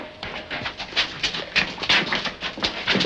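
Pet dog panting and whimpering close by on an island, quick rhythmic breaths mixed with soft high whines over a steady background, with no talk.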